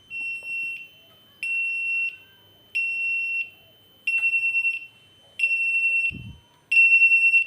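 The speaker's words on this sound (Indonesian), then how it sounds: "Selanjutnya kita coba sampai buzzer di kamar kapten dan messroom menyala" A ship's bridge navigational watch alarm (BNWAS) prototype built on an Outseal Mega V1 controller sounds its buzzer in the captain's cabin and messroom: six evenly spaced, shrill electronic beeps, each lasting under a second, growing slightly louder, with faint handling noise.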